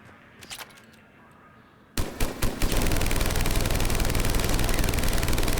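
Typhoon gun from the video game Mass Effect 3 on a target range, a few separate shots followed by a loud, sustained burst of rapid automatic fire that runs to the end.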